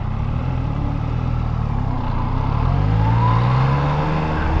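A 2016 Yamaha XSR900 motorcycle engine runs at low revs under 3,000 RPM, a steady close-up rumble that climbs slightly in pitch toward the end as the throttle opens, with no talking.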